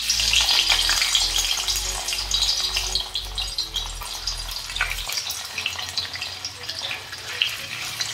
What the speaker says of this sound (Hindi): तो फ्रेंड इस तरह से हम इसे थोड़ा तल लेंगे।